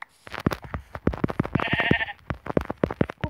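Sheep in the Minecraft survival game bleat in short wavering calls, several in quick succession, with no talk over them.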